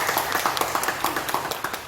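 A church congregation applauds in a quick, steady run of claps, fairly soft and blended into a continuous patter.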